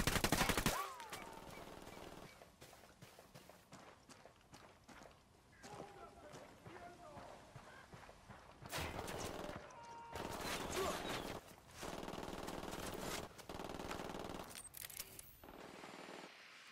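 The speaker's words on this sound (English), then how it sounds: "Opening fire on these shitheads." Bursts of automatic gunfire in the video game Ghost Recon Wildlands, rapid volleys breaking off and resuming in several loud clusters, with voices talking between and over the shots.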